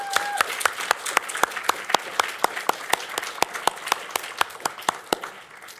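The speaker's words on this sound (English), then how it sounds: "let's have a round of applause for the Women's Exchange as it celebrates its 5th" Audience clapping at the Leading Women in Science 2018 event, honouring the Women's Exchange fifth anniversary; sharp individual claps in a fairly regular rhythm stand out over a softer bed of crowd applause, with a brief tone at the start.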